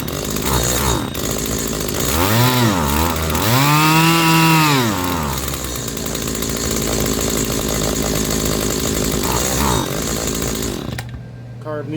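A Stihl HT 70 pole pruner engine starts up and runs nearby, revving in a few loud throttle blips before idling unevenly, then cutting out at the end.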